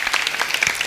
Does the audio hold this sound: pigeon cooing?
no